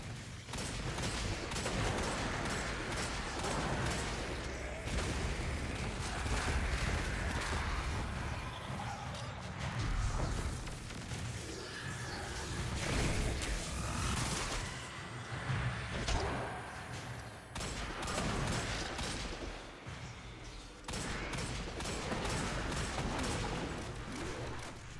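Rapid bursts of heavy hand cannon gunfire in Destiny: Rising crackle throughout, dense and continuous with brief gaps, loud and close.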